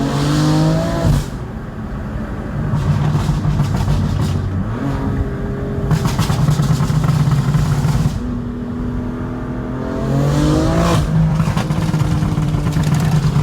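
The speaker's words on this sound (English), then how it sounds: "that's the aggressive overrun burble" BMW M4 with a Bootmod3 tune, engine revving and exhaust rumbling loudly up close in repeated rising and falling passes, with crackling overrun burble as the revs drop.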